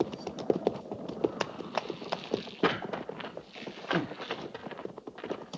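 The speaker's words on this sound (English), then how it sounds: "Jenkins, get that horse and put him with the pack mules." A horse's hooves clip-clop at a walking pace on firm ground, irregular close thuds repeating over several seconds with faint background sound beneath.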